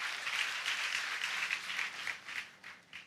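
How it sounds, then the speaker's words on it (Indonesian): Church congregation gives lively applause for God during a sermon, a steady wash of many hands clapping at moderate loudness that pulses slightly and begins to taper off. "Berikan tepuk tangan yang meriah buat Tuhan."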